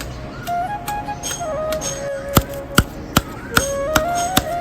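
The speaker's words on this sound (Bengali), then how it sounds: "আমন দিস্তার মধ্যে নিম পাতা দিয়ে দিয়েছি আমি এবার এটাকে বাটার হবে" Neem leaves are pounded in a mortar with a pestle, giving six or seven sharp, evenly spaced thuds over a faint background with a quiet tone.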